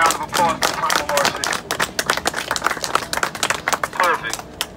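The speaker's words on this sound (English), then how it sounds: "Can I get a round of applause for Primal RC?" Crowd clapping for a sponsor at an RC drag race event: a lively burst of many hands clapping, close and dense, with voices mixed in.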